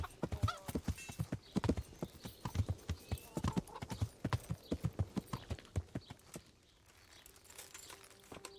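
Horse hooves clip-clop in a steady, close rhythm in the medieval video game Kingdom Come: Deliverance, loud and regular for about six seconds before the hoofbeats stop, leaving a faint tonal background.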